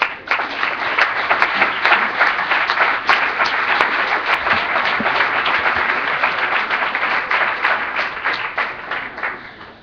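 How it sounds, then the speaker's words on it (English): A symposium audience applauds hotel staff with sustained, dense clapping that stays loud and steady for about ten seconds before easing slightly at the end, with no talk over it. "we should give them a big round of applause"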